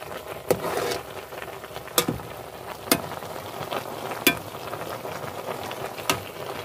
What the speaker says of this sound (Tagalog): luto ng aming pinakbit